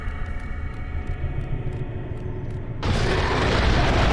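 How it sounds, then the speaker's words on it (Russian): A treasure chest blows open in God of War 2 on PS3 with a sudden loud boom that breaks over steady in-game background rumble and lingers as a broad roar. "Какой сундук взрывать"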